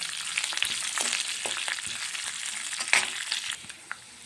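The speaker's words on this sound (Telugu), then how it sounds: "ఇవన్నీ బాగా ఫ్రై చేయాలి." Curry leaves and spices fry in a pan of hot oil for fried rice, a steady dense sizzle with crackles and stirring scrapes, close and moderately loud, easing off near the end.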